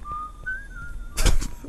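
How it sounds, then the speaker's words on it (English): A character in the video game Dungeon Blaster whistles a short, clear melodic phrase of a few rising and held notes, fairly quiet, followed by a brief louder burst of noise. "He's whistling just like a chef."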